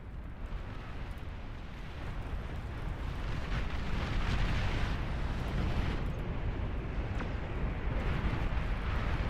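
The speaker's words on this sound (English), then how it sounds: "Push the creeping barrage back." A sustained creeping artillery barrage in the RTS game Beyond All Reason: a dense, continuous roar of overlapping explosions and rumbling blasts that swells slightly midway and holds steady at a loud level.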